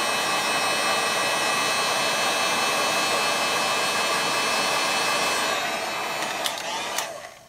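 A heat gun blows a loud, steady roar while shrinking heat-shrink tubing over sensor wires, running close and continuous before tapering off with a couple of small clicks at the end.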